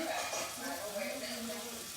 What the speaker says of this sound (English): my pan is probably hot enough that I can put in my meatballs. You want to be able to hear a sizzle though.